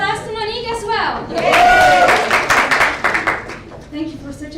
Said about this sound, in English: Give a round of applause to Monique as well.